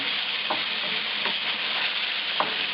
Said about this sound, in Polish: Kurczaczka smażymy przez parę minut.